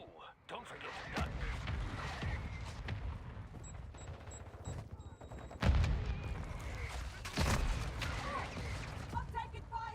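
Gunfire in MW3 Zombies rattles in dense bursts and volleys, loud and continuous, with heavier booming impacts now and then and voices speaking over the battle noise.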